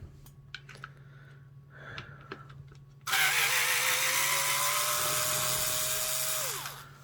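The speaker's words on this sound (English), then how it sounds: "Let's go and pull out all these little screws here." Small T10 Torx security screws are backed out of a DeWalt Nano Lithium 36V battery case: a few light clicks and taps, then a loud, steady close-up whir of a power driver for about three seconds before it winds down.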